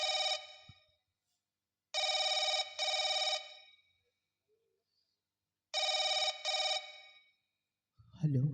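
A telephone bell rings loudly in two double bursts, separated by silence, followed by a voice at the very end.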